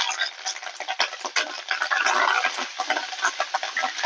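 Mustard seeds, cumin, dried red chilli, garlic and curry leaves crackling and sputtering in hot oil, with dense irregular pops over a soft steady sizzle.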